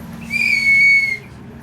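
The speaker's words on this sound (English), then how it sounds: "Are you the lifeguard with your whistle?" A single toy lifeguard-style whistle blown once, a clear steady shrill tone lasting under a second, close and loud over a quiet indoor room hum, no talk.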